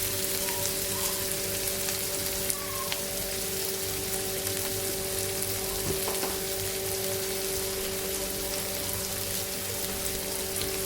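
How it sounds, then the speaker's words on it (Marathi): Tomatoes and onion sauté in a pan with a steady, soft sizzle and crackle, a continuous frying hiss close by with no talking. "टॉमॅटो आणि कांदा छान असा परतून घ्यायचा आहे."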